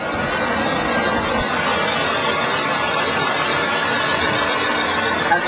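A 1984 BMW 750iL V12 idles smooth and even nearby, a steady low hum with a faint whine on top and no talking over it.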